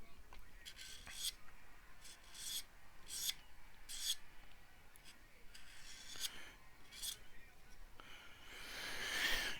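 A blade scrapes along the neck finish of a Harley Benton TE-52 guitar in a series of short, rhythmic rasping strokes, faint and close, building into a louder scratchy passage at the end.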